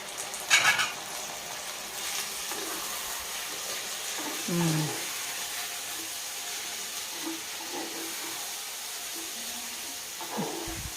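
Tomatoes hitting a hot pan with curry leaves for a palak tomato curry, a soft sizzle and a few stirring scrapes carrying on steadily at moderate loudness, with no talk.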